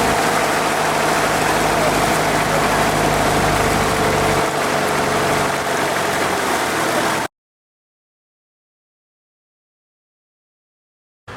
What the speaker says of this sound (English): Now we take a little ferry boat